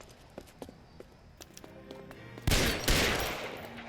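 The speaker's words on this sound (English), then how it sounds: "He's shooting at us." Gunfire in an L.A. Noire shootout: scattered sharp shots and clatter at first, then two loud, close blasts that ring out and decay near the end.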